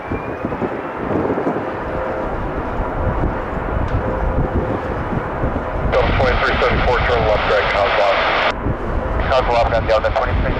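Jet airliner engines roar steadily during a takeoff run at Detroit Metro Airport in gusty wind, loud and continuous with wind buffeting, while radio chatter plays over it.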